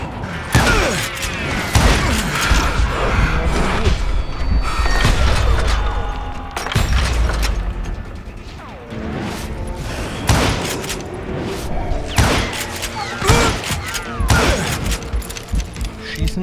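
Enemy gunfire in the Western shooter Call of Juarez: Gunslinger, with repeated sharp shots and thuds, some in quick clusters, loud and close, mixed with other game noise.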